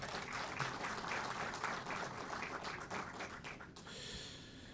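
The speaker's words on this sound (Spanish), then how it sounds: "recibimos con fuertes aplausos al señor José de la Rosa Cruz Martínez" Audience applause at a public universities panel meeting, a faint, steady patter of clapping hands that fades slightly toward the end, heard from a distance.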